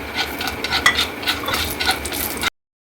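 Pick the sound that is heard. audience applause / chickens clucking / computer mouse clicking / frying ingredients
frying ingredients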